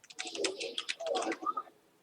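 Typing on a computer keyboard: a quick flurry of close, light key clicks in uneven bursts for about two seconds, then fading out.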